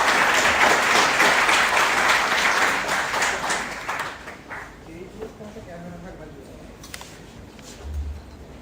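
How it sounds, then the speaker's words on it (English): A university induction audience applauds in welcome, a dense crowd clapping loudly for about four seconds before fading out into scattered claps and room murmur. "Have a clap for them."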